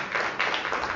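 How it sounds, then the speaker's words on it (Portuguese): A church congregation at a Wednesday restoration service claps together for about a second, a steady dense patter at moderate volume, slightly distant. "Vamos aplaudir a Jesus por isso, né?"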